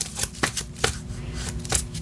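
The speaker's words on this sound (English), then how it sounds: "One more shuffle, they say" Tarot cards are shuffled by hand up close, giving crisp riffling slaps and soft sliding rustles in an irregular rhythm over a quiet room hum.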